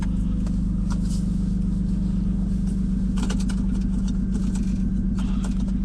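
A turbocharged BMW E46 engine idles close by, a loud, steady, low rumble with an even pulse and a few faint clicks above it.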